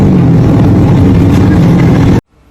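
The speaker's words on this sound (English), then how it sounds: "Drivers, start your engines." Cup Series race cars fire up their engines together at the quarter-mile Marion Speedway, a loud, dense, continuous roar of many engines close by that cuts off abruptly after about two seconds.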